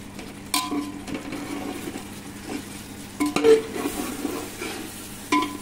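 Dhaba-style chicken masala sizzling in a pan while a spoon stirs it, steady frying hiss with occasional scrapes and clinks of utensil against metal, close and moderately loud.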